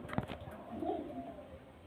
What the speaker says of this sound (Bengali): গোলাপি পট্টির পায়রা সব